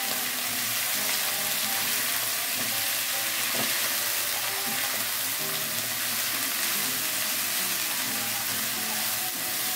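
Chayote and tofu stir-frying in a hot pan, a steady loud sizzle with faint scraping of the spatula throughout, no voices.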